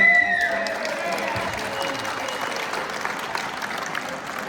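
An audience applauds at the prize ceremony of the RVC tournament in Belgium, with dense, steady clapping from a crowd that starts loud and tapers slightly while a voice speaks briefly at the start.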